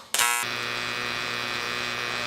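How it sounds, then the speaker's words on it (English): A TIG welding arc strikes on a 6061 aluminum 1/8 inch T-joint, starting with a sharp crackle and settling into a loud, steady buzzing hum. "So let's go back to the beginning and start the weld."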